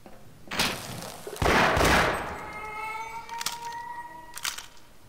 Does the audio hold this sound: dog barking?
no